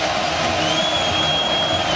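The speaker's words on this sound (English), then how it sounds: "Here comes the crowd." Football stadium crowd at Oklahoma at Auburn roaring on third down, a loud, steady wash of cheering and whooping from thousands of fans, distant and continuous with no breaks.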